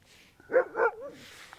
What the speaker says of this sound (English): Is that a dog behind me? Oh, it is.